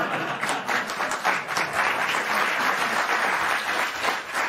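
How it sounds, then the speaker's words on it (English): Studio audience clapping after a joke on a late-night television talk show, a steady, full wash of applause that holds at an even level throughout, with no voices standing out. "I'm just happy they're clapping at that joke, Kat."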